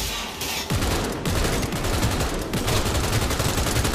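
Rapid automatic gunfire from a weapon in the video game Cyberpunk 2077, a dense, loud, continuous burst of shots after a brief opening pause, with no talk over it.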